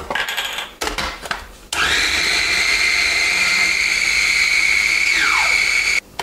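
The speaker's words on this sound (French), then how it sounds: "Allez, on mixe ça." A blender whirs loudly and steadily as it purées mushrooms with olive oil, its motor holding a high whine for several seconds after a short start, then cutting off abruptly.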